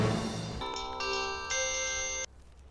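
Electronic phone ringtone playing alone as a call is placed to a police commissioner, a bright tonal melody in stepped bursts that cuts off sharply.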